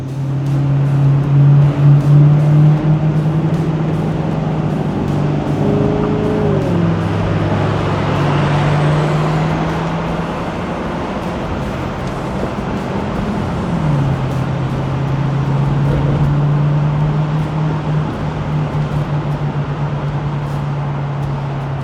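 A triple-black 2010 Maserati GranTurismo Convertible with its Ferrari-derived V8 drives steadily, a strong low engine drone with shifting pitch, a rise around the middle and another change in tone later, loud and continuous with no talk.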